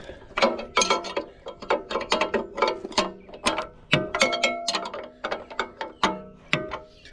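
A hand ratchet works a bolt loose on a MulTbar rod holder base aboard an Excel bay boat, giving a long run of close, fast metallic clicks in uneven bursts with brief pauses between strokes.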